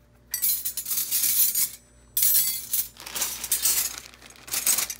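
Metal knives clink and rattle against each other while being unpacked, in close, bright bursts of jangling with two short pauses between them.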